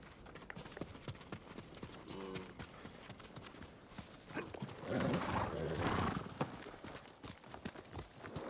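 Horse hooves clip-clop at a steady riding pace in the video game Ghost of Tsushima, continuous and fairly close across the whole stretch, with a brief swell of louder hoof and movement noise midway.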